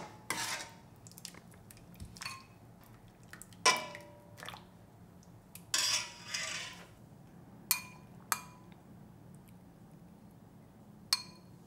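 A spoon clinks and scrapes against a bowl while salt and chopped green onion are mixed for Korean chicken soup, with sharp, irregular taps spread over a quiet background.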